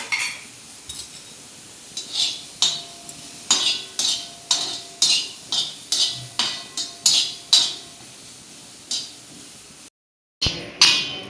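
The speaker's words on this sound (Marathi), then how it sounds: "कांदे थोडे भाजून घेते मी आता।" Onions being dry-roasted in a pan, stirred with a metal utensil: rhythmic scraping strokes with light clinks against the pan over a soft sizzle, close by, briefly cut out near the end.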